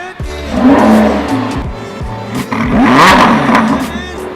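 A Lamborghini Huracán engine revs loudly nearby in two rising, roaring bursts, with a short dip between them and a rumbling idle underneath.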